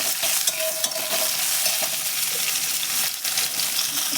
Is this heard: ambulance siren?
no